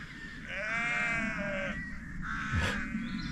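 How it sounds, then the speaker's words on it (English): Sheep and lambs bleating in a field on a hillside walk, a drawn-out wavering bleat near the start and a shorter call later, moderately distant over wind. "these sheep, they're a nuisance. Noisy buggers."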